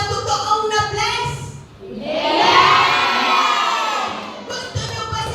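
A youth fellowship crowd erupts in loud, sustained shouting and cheering for several seconds, framed by someone talking into a microphone before and after.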